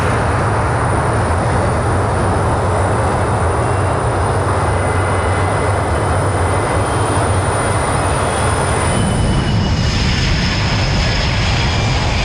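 An airliner departing Hong Kong International Airport for Beijing produces a loud, continuous jet engine roar that fills the whole stretch, steady and close, with a faint high whine running through it.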